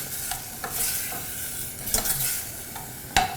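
Sugar stirred into a hot sizzling pan, a close steady frying hiss with a spoon scraping and knocking against the pan a few times.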